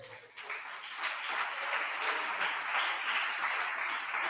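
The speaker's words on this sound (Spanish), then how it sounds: "abrirle un aplauso al Señor." Church congregation breaking into applause for the Lord during a sermon, clapping swelling from quiet to a dense, steady crowd of hands that holds evenly to the end.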